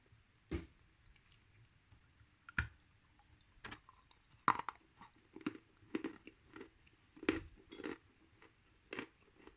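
Dry, crisp bites and crunching chews of the light part of Bashkir edible clay come through as sharp, irregular clicks and crunches, close and fairly loud over a quiet background.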